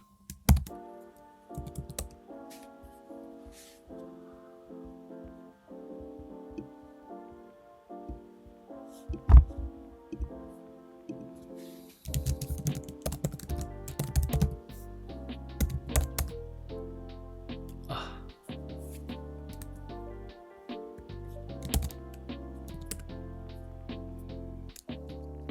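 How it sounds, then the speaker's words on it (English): Computer keys clatter in quick irregular bursts as Linux commands are typed, with short pauses between runs of keystrokes and occasional louder taps, close and fairly quiet. "let's just type everything again"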